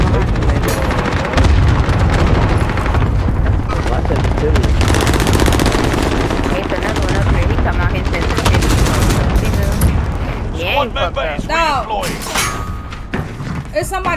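Relentless Call of Duty gunfire, rapid machine-gun bursts and single shots with thuds and booms, loud and dense throughout, while players talk over the shooting.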